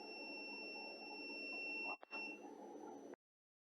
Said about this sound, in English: The alarm will sound like this.